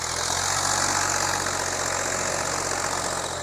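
Tractor engine idling, a steady, continuous mechanical drone with a rough low throb, close and fairly loud with no talk.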